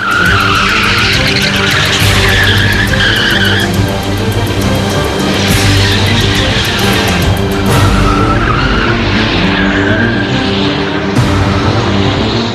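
Police cars skid hard during panic-braking and slide-control training on a slippery surface. Tires squeal and screech loudly in repeated bursts over steady engine roar, with no talk.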